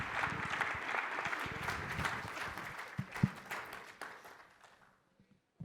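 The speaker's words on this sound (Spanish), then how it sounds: "les pido un fuerte aplauso para nuestros 4 panelistas" An audience at a forum on guarantees of freedom of expression in Mexico applauds four panelists, a sustained crowd clap that thins out and fades to silence near the end, with scattered voices mixed in.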